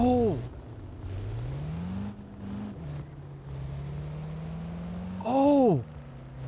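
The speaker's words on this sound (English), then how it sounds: "So they updated the engine sounds" A car engine in the video game ERLC (Emergency Response: Liberty County) revs up and settles into a steady drone, then roars sharply again near the end, loud and close.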